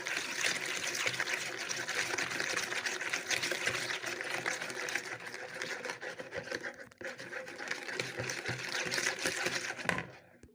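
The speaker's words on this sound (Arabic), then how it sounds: "غادي نخلطهم مزيان" Sugar, salt and eggs are whisked together for a light cake batter, giving a continuous, moderately quiet wet mixing and beating sound that runs steadily, then stops at the end.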